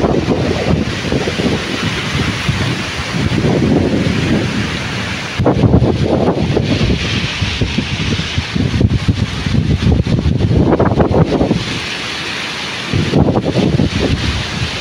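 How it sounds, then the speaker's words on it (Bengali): A thunderstorm with heavy rain and gusting wind roars close against the microphone, while deep rolls of thunder swell and fade several times. "বৃষ্টি পড়তেছে।"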